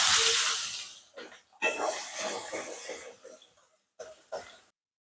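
Chopped onion dropped into hot oil with bay leaves and whole spices for a Bengali bhangar fish curry, a loud hissing sizzle that fades, then shorter bursts of crackle with gaps of quiet.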